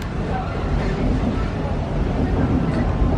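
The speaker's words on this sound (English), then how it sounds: "our train might have to suddenly slow down or suddenly have to come to a stop" Busch Gardens Tampa Bay park train rolling along its tracks, a steady, close rumble and rattle of wheels holding at an even level throughout.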